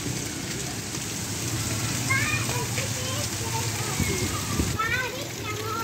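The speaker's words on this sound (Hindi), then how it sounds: "बारिश हो रही है" Steady rain falls in Garh Maharaja with strong winds, a dense hiss of drops on surfaces throughout while someone talks over it and a voice chirps in now and then.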